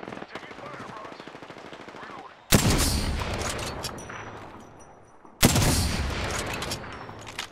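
Automatic gunfire in the Apex Legends battle royale shooter, with two sharp, loud onsets each followed by rapid, dense bursts that slowly fade, and a voice speaking faintly underneath.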